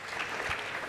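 Fairly quiet, dense clapping from an audience at a live London show, a short even burst of applause heard at some distance.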